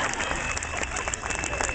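A street audience claps for a clown performer in Coyoacán, steady dense applause filling the whole stretch with crowd murmur and voices mixed in.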